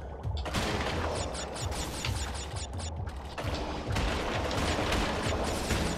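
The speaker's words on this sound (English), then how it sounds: "I can ride this thing, shoot some torpedoes." Sub-riding torpedo fire in Crash Bandicoot: Warped, N. Sane Trilogy, with rapid mechanical clicking launches in quick repeated bursts over a steady underwater game backdrop, close and moderately loud.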